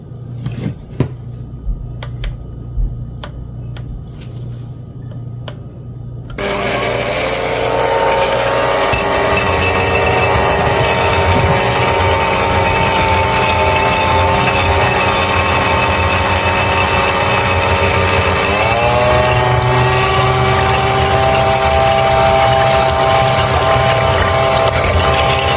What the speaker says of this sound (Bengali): এখন একটা ইলেকট্রিক মিক্সার মেশিনের সাথে এটা বিট করে ফর্ম তৈরি করে নেব।